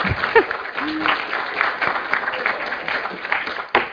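Members of a university faculty senate meeting give scattered applause for a professor, with clapping mixed among voices talking nearby.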